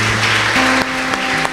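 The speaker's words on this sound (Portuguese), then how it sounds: "E aplauda ao Senhor" Congregation in a church service applauding, a dense, continuous wash of clapping heard over a sustained tonal hum, fairly loud and brief.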